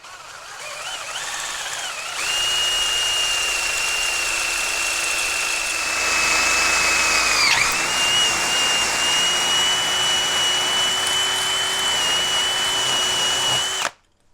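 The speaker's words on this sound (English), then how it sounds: "So I'm just going to take a wider drill now." A power drill runs continuously at close range with a high whine, widening a hole in a 1/6 scale Armortek SdKfz 7 halftrack model, its pitch dipping briefly midway before it stops.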